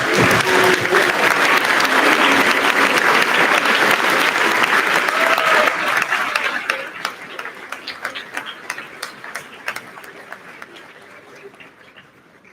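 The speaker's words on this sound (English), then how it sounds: "give all of these students a round of applause" A crowd at an eighth-grade awards ceremony bursts into loud, sustained applause for award-winning students, then it thins out over several seconds into scattered individual claps, with faint voices underneath.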